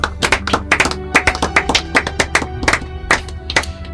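Church congregation clapping in a rhythmic, steady beat, loud and close, with an organ or keyboard chord sustained beneath and faint voices mixed in.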